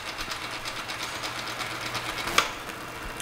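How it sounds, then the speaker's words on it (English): A used Hardinge HLV-H 11 x 18 inch precision tool room lathe runs with its thread screw turning and carriage moving, giving a soft, steady rapid mechanical whir with one brief click partway through. "Now you can see our thread screw and our carriage moving."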